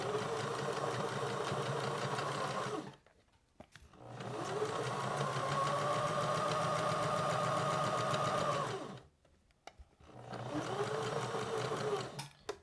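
Domestic sewing machine stitching a beginner fabric card deck holder, running in three bursts with short pauses between as the needle stops and the work is turned at corners; steady whirring hum, close and fairly loud.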